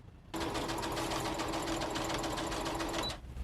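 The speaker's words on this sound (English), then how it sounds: "This is my embroidery machine." An embroidery machine sewing fabric, starting abruptly and running as a steady rapid mechanical whir with a fine stitching rhythm, close and even, then stopping just before the end, with no voices.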